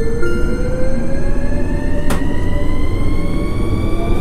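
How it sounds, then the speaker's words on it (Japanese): An out-of-service train pulls away in the Train Crew railway simulator, its steady loud rolling rumble and motor whine continuing throughout, with one brief sharp clunk partway through and no talking. "5番乗り場から回送列車が発車します"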